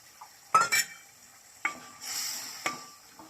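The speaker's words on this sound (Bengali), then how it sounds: "এখন আমরা বাগদা চিংড়ি মাছ দিয়ে দেব।" Tiger prawns tip into hot oil and masala in a pan, giving a few sharp clattering stirs with scattered clinks over a soft, steady sizzle, close and moderately loud.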